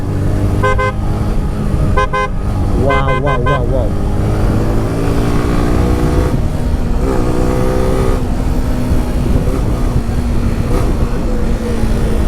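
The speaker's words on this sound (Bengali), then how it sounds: "হর্ন দিছে পুরো হচ্ছে প্রাইভেট কারের হর্ন" A modified Suzuki Gixxer motorcycle's car-like horn honks in short repeated bursts, then longer blasts, over steady loud road and engine noise from busy traffic.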